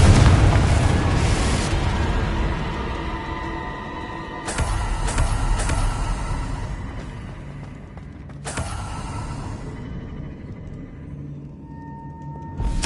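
Confringo fire spell blasts in Hogwarts Legacy, several booming explosions with sharp cracks, each followed by a ringing, decaying tail, loud and close.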